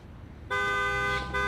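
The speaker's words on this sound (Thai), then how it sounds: "บีบแตรอะไรขนาดนั้นก่อน ระยะอีกเป็นกิโล" A car horn blares in one sudden, loud, sustained blast that starts abruptly after a quiet moment and holds steady with a brief dip near the end.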